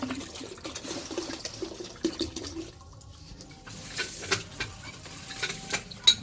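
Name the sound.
water being poured to fill a container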